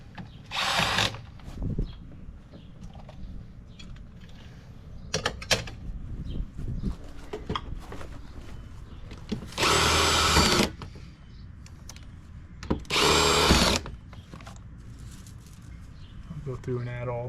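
Power drill driving screws into a vinyl fence gate: a few short, loud whirring bursts, two of them longer and sustained, separated by quieter handling noise and faint background sounds.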